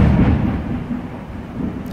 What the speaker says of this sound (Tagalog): Ang lakas kasi ng kidlat tsaka kulog.